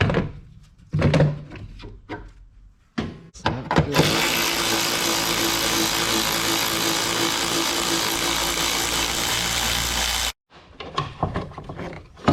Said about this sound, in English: you need to cut the hole that goes through the guard big enough to fit your 4-inch pipe in there